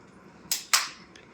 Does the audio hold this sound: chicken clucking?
no